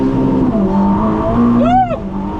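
A 1,000-horsepower supercar engine blips once in a short, loud rev that rises and falls, heard up close over a steady idle rumble.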